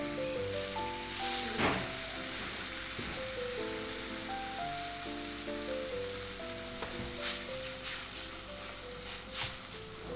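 Red wine hits a hot pan and sizzles as a sauce reduces in a restaurant kitchen, a soft continuous crackle under steady tonal background music with a few sharp clinks.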